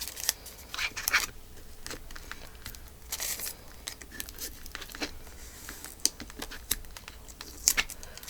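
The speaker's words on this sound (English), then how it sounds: "So let's see if we can cut a straight line here." Scissors cut a straight line through paper, a run of crisp snips and crinkling paper rustle at close range, soft and irregular, with no talking.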